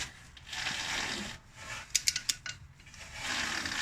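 A torque wrench ratchets while loosening a bolt on a Nissan Micra K11 during clutch and rear main seal work: a quick burst of about five sharp, close metallic clicks stands out from the steady background hiss.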